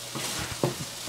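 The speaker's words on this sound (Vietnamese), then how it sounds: "Mẹ chiên cơm." Rice being stir-fried in a pan, a steady sizzling hiss with stirring scrapes throughout and one sharper clatter partway through, close and fairly loud with no talk.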